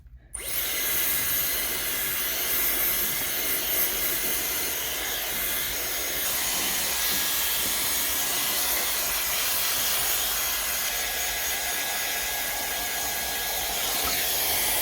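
A Dyson hair dryer fitted with a diffuser blows on curly hair, giving a loud, steady whooshing roar that starts abruptly and runs unbroken at close range.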